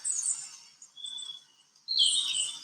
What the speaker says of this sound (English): I think I hear birds